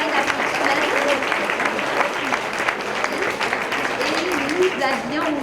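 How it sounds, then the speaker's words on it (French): Steady, dense applause from a large audience fills a hall at a school board merit awards gala, a continuous wash of many hands clapping at even loudness with faint voices mixed in throughout. "Alors oui, ça mérite une bonne main d'applaudissements."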